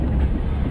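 Train riding in the horror video game REVEIL, a steady low rumble of wheels and carriage filling the scene at even volume, with no voices over it.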